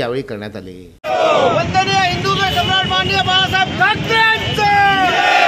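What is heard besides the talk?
protesters shouting slogans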